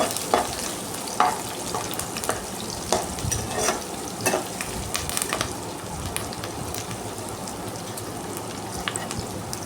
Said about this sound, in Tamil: கருவேப்பிலை கொஞ்சம் போட்டு வதக்கி விட்டுக்கிறேன்.